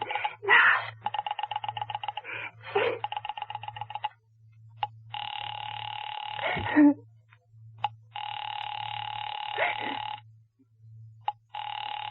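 Telephone sounds in an old radio drama: a rotary dial clicking through a number in rapid pulse bursts, followed by buzzing ring and line tones that start and stop in long intervals over a low steady hum.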